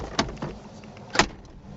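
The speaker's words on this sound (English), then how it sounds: "I'm gonna shut the door on you" Car door of a Saab 99 Turbo shut with a single solid thump, preceded by a couple of lighter latch clicks and handling knocks, close by and clear with no talking.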